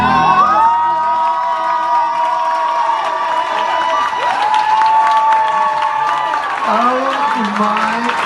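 A crowd at a live singer's concert roars with high-pitched screams, whoops and cheers over scattered applause, loud and continuous, with shrill voices rising and falling throughout.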